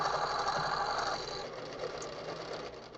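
A sewing machine stitches a pillowcase seam in a quiet room, a fast, faint mechanical whir that runs steadily before easing to a softer hum partway through.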